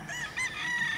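A rooster crows with a sustained, wavering call, and chickens fill the farmyard around it at moderate volume with no talking on top.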